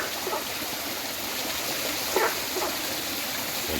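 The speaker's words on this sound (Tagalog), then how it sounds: "Continuous ang tubig niya. Yun ang pump." Water from a farm pump flows in a steady, continuous stream, a soft broadband rush and trickle with a few faint gurgles, heard alone at moderate level.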